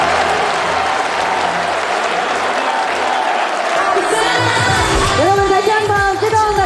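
An audience at a Korean political party event claps in a steady burst of applause, then a loud music track kicks in partway through and plays over the clapping.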